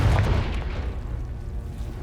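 A Confringo blasting spell goes off in Hogwarts Legacy, a deep booming burst at the start that fades into a rumbling low tail, loud and close with no voices.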